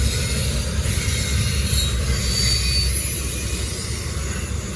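A passing freight train rumbles steadily and loudly nearby, with continuous rolling wheel noise and faint squeal, with no voices.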